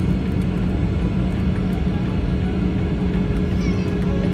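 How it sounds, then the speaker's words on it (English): A steady, loud low rumble of an aircraft landing at Mumbai airport, heard from inside a plane waiting on the ground, holding constant with a faint whine above it. "Another aircraft landing."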